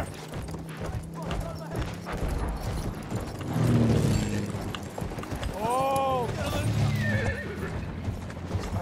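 Horse in the first-world-war video game Battlefield 1 clip-clopping along at a gallop, with a loud, drawn-out neigh midway and a second whinny near the end, over a busy game soundscape with some voice.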